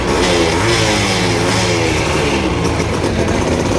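A modified Yamaha RX135 motorcycle engine running loud and close, a steady rough two-stroke drone with pulsing firing harmonics and slight pitch shifts throughout, with no voices over it.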